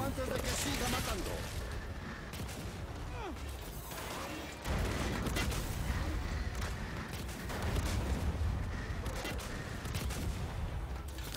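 Gunfire rattles through combat in the video game Gears 5, with repeated bursts and crashes stacked densely under excited shouting voices at moderate level.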